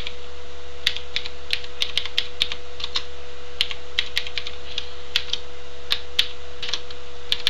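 Scattered keystrokes on a computer keyboard while HTML code is typed, irregular taps with short pauses over a steady low electrical hum, fairly quiet and close.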